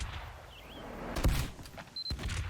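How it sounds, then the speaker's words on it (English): Quickie Bomb Launcher from the video game Team Fortress 2 firing and its bombs exploding, with sharp bursts and booming blasts clustered around the middle and end of the moment, fairly loud over busy game ambience. "just listen to the firing and explosion sounds."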